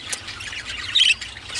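Small birds in a breeding shed give a few sharp, high squawks, the loudest a brief burst near the middle, over a faint steady hum.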